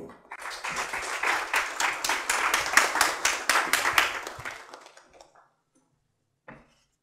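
An audience applauds as a speaker is welcomed at a data science talk, with a moderate crowd clapping steadily for about five seconds and then fading out, followed by a short pause and a single faint knock.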